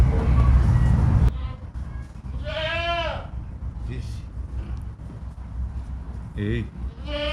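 Old breeds of sheep and goats in a small animal park give a loud, wavering bleat. A couple of shorter, fainter bleats follow over a quiet outdoor background. A burst of louder noise opens the clip.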